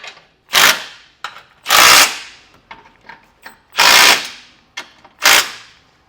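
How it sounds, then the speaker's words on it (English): An impact or power tool snugs base plate bolts on a 2018 Jeep Cherokee with a 9/16 socket, firing four loud rattling bursts separated by quiet gaps and small clicks. "take a 9/16 and just snug them down."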